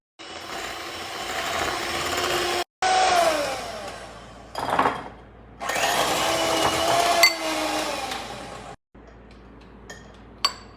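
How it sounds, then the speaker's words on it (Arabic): Electric mixer whipping cream with sugar for a Lotus cheesecake, a steady loud whir broken by brief stops and restarts, with pitch shifting as the motor runs in bursts. "نبلش نخفق الحين الكريمة"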